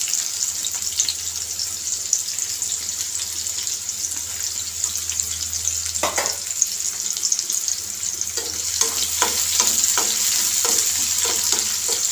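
Onion frying in a pan for okra curry makes a continuous close sizzle, with a clack partway through and then a run of stirring scrapes and knocks over the hiss.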